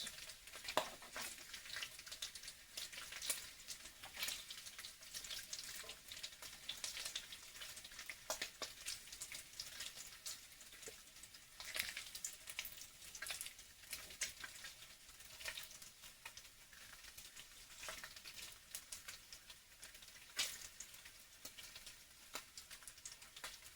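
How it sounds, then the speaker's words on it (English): Bacon frying in a pan, with grease crackling and popping; a steady quiet sizzle carries many small sharp pops throughout and no voices. "Yeah, the bacon grease pops."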